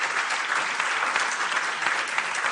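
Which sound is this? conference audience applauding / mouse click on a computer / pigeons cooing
conference audience applauding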